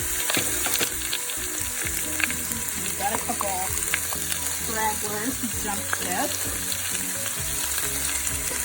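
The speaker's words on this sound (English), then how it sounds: "So we're going to dump all our veggies in here. You hear them sizzling." Vegetables for stock sizzle and crackle steadily in a hot pot on medium heat, with occasional stirring clatter and a voice speaking briefly over the frying.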